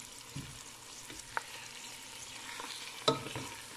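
Chicken with onion and peppers being turned in a pan, a faint low sizzle broken by a few sharp metal clinks of the spatula, quiet and close.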